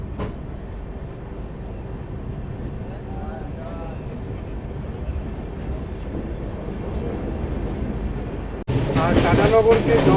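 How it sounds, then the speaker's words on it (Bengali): The 18615 Kriya Yoga Express rumbles at Tatanagar Junction with a steady low drone and faint voices in the background. Near the end, a louder burst of noise abruptly takes over. "ট্রেন এখন এসে পৌঁছেছে তার যাত্রাপথের 6 নম্বর হল্ট টাটানগর জংশন"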